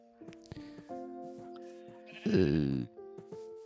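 A sheep in Minecraft gives one loud, wavering bleat, standing out from a soft background of sustained game music tones and small clicks.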